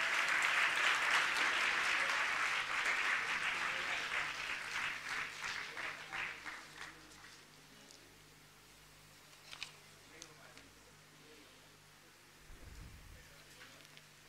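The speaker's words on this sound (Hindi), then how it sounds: "तो लगातार तालियां बजती रहें।" An audience at a Delhi government school applauds the children's school orchestra, dense loud clapping that gradually thins and fades into scattered claps, then near quiet with a few faint noises.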